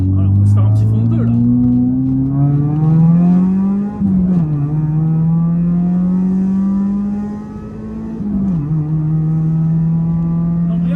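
A Mitsubishi Eclipse coupe accelerates hard at full throttle in second gear, its engine note climbing loud and steady with two brief dips along the way.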